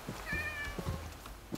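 Several cats meowing in Minecraft, short soft calls spaced irregularly, one drawn-out meow standing out, fairly faint with no talk.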